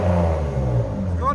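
A 1994 Toyota Mark II Chaser fitted with a Vibrant resonator revs with a smooth, loud, droning engine note that swells and eases, and a voice cuts in briefly near the end.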